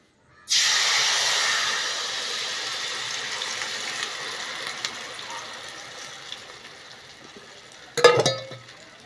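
Flour batter poured into hot butter for maida halwa, bursting into a loud, continuous hiss that slowly fades, then a short clatter of a utensil near the end.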